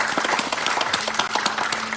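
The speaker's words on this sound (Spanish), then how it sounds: "dale un aplauso al Rey de Reyes" A church audience applauds, a dense continuous wash of many hands clapping with scattered individual claps, steady and fairly loud.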